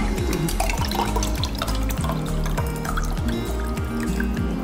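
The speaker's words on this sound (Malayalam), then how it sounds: "ഇനി പതുക്ക ഇതായി ഒഴിക്കണം." Grape juice is poured slowly into a container, a steady liquid stream with gurgling, rising glugs repeating throughout, close and fairly loud with no talk.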